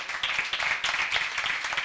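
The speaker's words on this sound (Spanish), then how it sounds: "os pido un fuerte aplauso para los dos." Audience applause for two speakers at a science talk, dense steady clapping from a small crowd, fairly close and even throughout.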